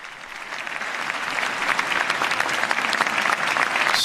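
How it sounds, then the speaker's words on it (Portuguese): Audience applause after Pope Leo XIV's speech at a meeting with authorities in Madrid, Spain: a dense, sustained round of clapping that swells slightly and continues steadily throughout, without voices over it. "Salva de palmas"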